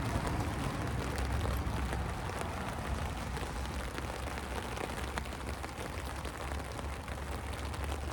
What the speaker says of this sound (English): again the rain's coming down heavy